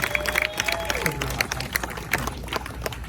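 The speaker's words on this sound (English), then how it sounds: "one last time, a huge round of applause for all the volunteers" Scattered audience clapping and crowd noise at a magic show in Clearwater, Florida, fairly faint and uneven, with a tone sweeping down and other stage sounds mixed in.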